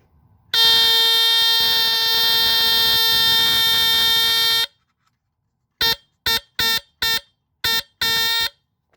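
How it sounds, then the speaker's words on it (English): A vintage Hudson Mfg Co Security fire alarm, Model No. 200, gives off a loud, steady DC squealer tone for about four seconds, then falls silent and returns in six short, evenly spaced bursts. "Gives off a straight, basically DC squealer noise."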